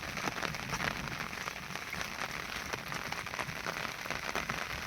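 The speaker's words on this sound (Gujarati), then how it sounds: "વરસાદ ગાજે છે અત્યારે તો." Steady rain patters across a surface at a farm, a continuous crackly hiss with scattered sharper drops, fairly close and even throughout, no voices.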